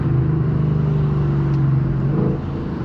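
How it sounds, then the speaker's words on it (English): A 2023 Ford Mustang GT with a Magnaflow Neo exhaust downshifting while driving, a loud deep exhaust drone that rises in pitch, then drops off as the revs fall near the end, with no talking. "There we go. Downshift right now."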